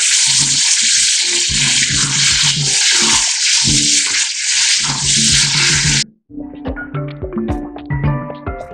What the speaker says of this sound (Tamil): அதையும் நன்கு வதக்க வேண்டும்.